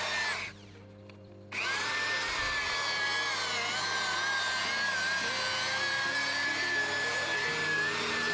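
A rotary polisher works rubbing compound into the paintwork of a Ford Transit Custom van, a steady loud whine running almost continuously, broken by a short quieter gap near the start before the motor spins back up.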